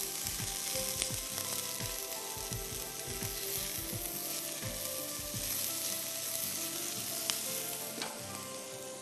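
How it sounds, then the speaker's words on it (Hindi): Sliced onion and bell pepper sauté in hot oil for a soup, a loud, steady sizzle filling the whole stretch, with occasional clinks and scrapes of stirring on top. "इसको बस हमें सौते करना है। स्लाइस में कटी हुई प्याज और स्लाइस में कटी हुई शिमला मिर्च"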